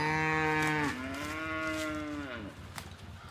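A cow on a farm lets out one long, loud, close moo that drops in pitch midway and trails off, followed by faint background noise.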